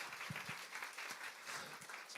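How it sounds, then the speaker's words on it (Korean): Faint applause from a church congregation during a Korean worship service, a brief burst of scattered clapping heard from a distance. "여러분 주님께 한번 영광의 박수 올리겠습니다"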